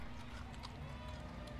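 Hooves of decorated horses clip-clop steadily along a street in a Christmas parade in Kingston, with a Tractor Supply group, heard under continuous crowd noise and nearby talk.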